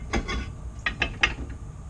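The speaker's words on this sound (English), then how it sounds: "Turn the screw, it expands and pushes these shoes out." An adjuster screw expanding drum brake shoes is turned, giving a handful of sharp ratcheting clicks spaced unevenly, close and fairly quiet.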